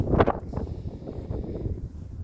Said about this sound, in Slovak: Tak teraz fúka